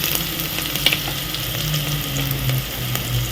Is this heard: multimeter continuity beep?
no